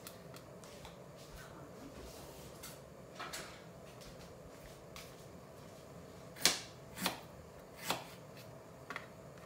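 A knife cuts through double-cooked pork belly on a board, producing three distinct soft thuds late in the clip after a stretch of faint handling noise in a quiet kitchen.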